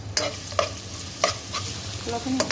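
Soft sizzling of garlic paste sautéing in cooking oil in a pan, broken by a few scraping stirs of a spoon, close and steady.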